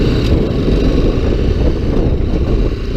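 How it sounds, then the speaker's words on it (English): A BMW G310GS motorcycle engine revs hard at about 6000 RPM with a 17-tooth front sprocket, a steady, loud, unbroken drone mixed with heavy wind rush while riding at speed. "So that's really revving hard."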